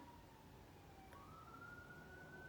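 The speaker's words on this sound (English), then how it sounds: "Y'all hear that siren?" A distant emergency siren wails faintly, its tone gliding slowly down and then rising again over a low background hum, with no talking.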